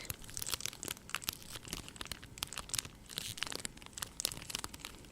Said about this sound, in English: I like this crinkly sound